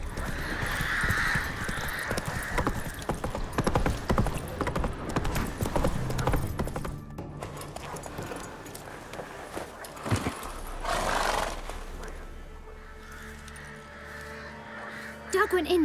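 Roach, a horse in The Witcher 3, gallops with steady rhythmic hoofbeats over music and ambient game sound, loud at first and settling lower later, with a bird cawing at moments.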